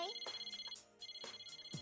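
A phone rings in the video game Persona 4 Arena Ultimax, with a bright electronic ringtone repeating in short bursts and a brief gap in the middle.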